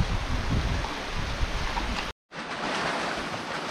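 Heavy rain pouring down on rice paddy fields in the Konkan countryside, a loud, dense, steady hiss filling the whole recording, with a brief dropout near the middle before the downpour resumes.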